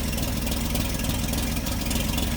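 Engine of a 1941 Chevrolet Special Deluxe Coupe with a single-barrel carburetor, idling steadily and close by with a continuous low rumble, no talk.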